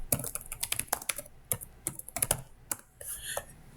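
Computer keyboard keys clattering in quick irregular bursts of typing, close and clear with brief pauses, no talking.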